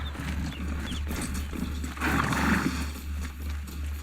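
A robot horse (Strider) in Horizon Zero Dawn moves with mechanical clip-clop footfalls and whirring servos over a steady low ambient hum, with a rougher snorting burst midway.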